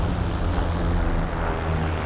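A P-38 fighter plane in the video game Heroes & Generals roars past as a loud, steady propeller-engine drone with no pauses and no talk.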